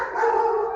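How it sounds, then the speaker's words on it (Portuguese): A female pet dog gives a short, close, tonal whining howl lasting under a second, heard alone with no talk. "A minha cachorra."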